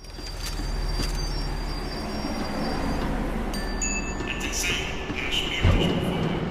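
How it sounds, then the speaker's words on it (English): A tram slowing to a stop in the Max Payne 3 video game, with a steady low rumble and some high-pitched squealing tones. A heavier clunk comes near the end, and faint talk sits underneath. "tram was slowing down, and I'd only just gotten on board"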